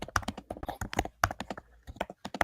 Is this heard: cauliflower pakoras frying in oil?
no